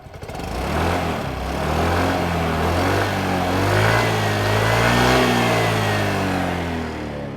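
A Yamaha RayZR Hybrid 125cc scooter engine revving up and down repeatedly, loud and close, with a buzzy, rising and falling tone throughout.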